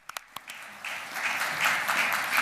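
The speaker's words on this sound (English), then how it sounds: "quick applause for player number 4" A few scattered claps quickly swell into brief, steady applause from a small audience at a Google tech event, moderately close and without talk.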